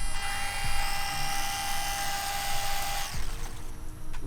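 An RC toy plane's electric motor and propeller take off from grass, giving a loud, steady high-pitched whine with a faint bump partway through and a slight shift in tone near the end.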